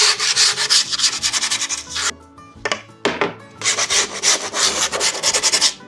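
Skateboard grip tape being rubbed around the board's edge to taper it, a loud, steady rasping scrape in quick repeated strokes, broken by a short pause midway before the rubbing resumes.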